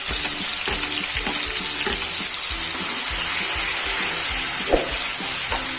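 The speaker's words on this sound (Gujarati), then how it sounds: "પહેલાં આપણે ડુંગળીના વઘાર કરીશું" Steady, crackling sizzle of onions frying in hot oil with cumin seeds, close and continuous, with occasional soft stirring clinks and no voices.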